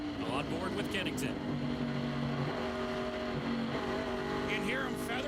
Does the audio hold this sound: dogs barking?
no